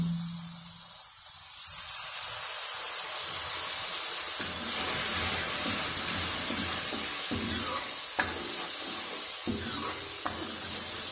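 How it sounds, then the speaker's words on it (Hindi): Masala of coriander powder and garlic paste with a splash of water cooking in a pan for egg bhurji, giving a steady soft sizzle and hiss with occasional stirring scrapes, close and continuous, no talking. "ये मसाला जो है वो धीरे धीरे पक रहा है"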